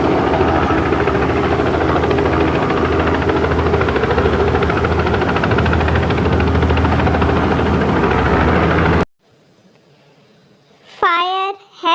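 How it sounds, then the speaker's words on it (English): Police helicopter with its engine and rotor running, a steady, loud, dense whir that fills most of the clip before cutting off abruptly, followed by near silence and a short spoken voice. "police helicopter."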